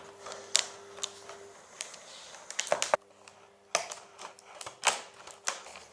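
Thick old-style plastic packaging around a Game Boy Advance accessory being cut open at the edge, giving a run of sharp close snips and crackles in irregular bursts, with no talk.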